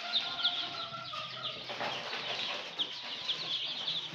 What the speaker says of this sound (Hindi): देख सकते हैं 200 चिक्स हैं हमारे पास।